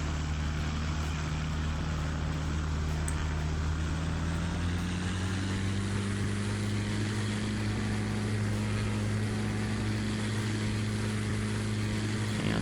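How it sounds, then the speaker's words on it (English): Cessna 402 twin propeller plane taking off in a Roblox flight simulator, a steady droning engine hum with strong low tonal bands that rise slightly in pitch partway through, continuous and loud with no talking. "here we go now, the takeoff in the Cessna 402."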